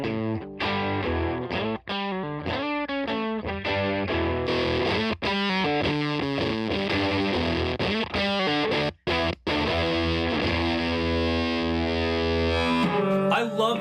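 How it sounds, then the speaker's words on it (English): Heavy, fuzzy electric guitar riff through a JHS Colour Box V2 into a clean amp, played steadily with thick chords and short choppy stops, loud and up close, no voices. "I'm going to play kind of like a heavy sounding riff on a clean amp"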